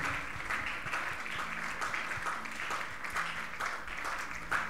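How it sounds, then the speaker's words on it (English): A church congregation claps during a prayer service, a continuous, fairly quiet, rhythmic patter of many hands that holds steady throughout, with a low background hum. "Please keep clapping."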